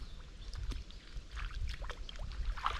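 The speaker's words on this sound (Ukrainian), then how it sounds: "Тихо, я в воду заходжу." Soft splashing and sloshing of water as someone wades slowly into it while carp fishing, with low rumbling movement and faint outdoor ambience.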